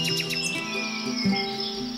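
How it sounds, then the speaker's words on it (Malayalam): Birds chirp and tweet near a rock-cut cave temple at Kaviyoor, Kerala, with several quick high calls and a sustained whistle-like tone over a faint background of small creatures, clear and fairly close. "എവിടെയും കിളികളുടെയും ചെറുജീവികളുടെയും ഒക്കെ ശബ്ദമാണ് കേൾക്കാൻ സാധിക്കുക."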